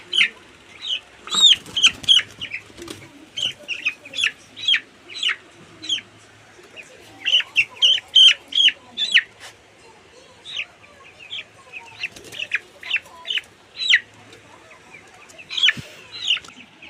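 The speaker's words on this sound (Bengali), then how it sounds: "এটা অনেক চঞ্চল মুরগি সেই জন্য মাত্রাটা কষ্ট হচ্ছে" A chicken clucks repeatedly and loudly up close, in quick bursts with short pauses, alongside faint background rustling.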